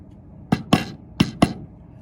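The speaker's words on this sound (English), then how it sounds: "we're going to hammer it in to the pre-drilled holes" A metal locking plate for a mobile lectern lock kit is hammered into pre-drilled holes: four sharp, ringing hammer strikes in two quick pairs, close and loud with no talk.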